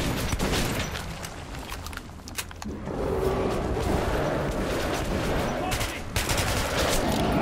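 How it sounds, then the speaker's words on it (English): A firefight in the Metro 2033 Redux video game: dense, continuous bursts of gunfire with sharp cracks and booms, loud throughout and briefly thinning before rising again. "This is a firefight."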